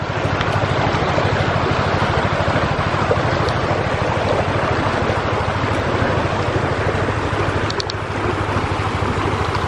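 Floodwater of a swollen creek rushing steadily, a loud continuous roar close by with no pauses.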